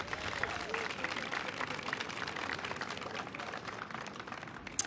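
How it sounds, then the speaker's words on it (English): A crowd at an event applauds steadily, a dense wash of clapping for several seconds at moderate distance, ending with a sharp louder clap. "Give them a round of applause."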